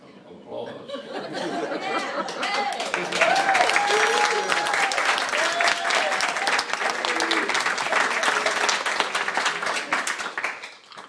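Sustained audience applause at a Book Publicists of Southern California event, building quickly to a dense, loud wash of clapping that holds for about ten seconds, with laughter and chatter mixed in before it fades.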